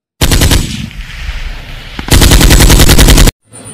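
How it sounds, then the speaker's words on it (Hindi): Loud rapid-fire bursts of cartoon automatic gunfire, a long rattling volley, a brief lull, then another intense burst that cuts off abruptly. "ये गाड़ियों में कौन गोली चला रहा है बच्चों?"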